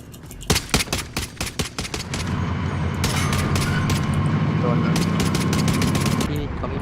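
Gunfire in the Call of Duty Warzone video game with an MP5: a burst of sharp separate shots, then dense rapid automatic fire rolling on loudly, with players talking over it.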